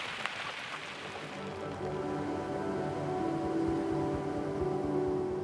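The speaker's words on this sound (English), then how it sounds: "Rain is just relentless" Relentless heavy rain pours down in a steady hiss over a low mechanical drone, growing slightly louder and staying unbroken throughout, with no talking.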